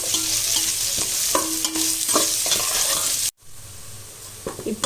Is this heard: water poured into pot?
no